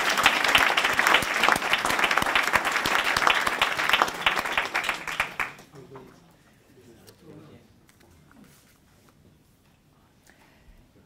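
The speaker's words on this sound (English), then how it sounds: "So can I please ask you to all put your hands together and congratulate Emma." Audience applause at a fellowship presentation ceremony, several seconds of dense, lively hand clapping from a crowd that quickly fades out, leaving quiet room sound with faint murmuring.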